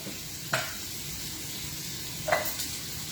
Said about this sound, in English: That's why we're cooking it down on the stove, and then it'll all fit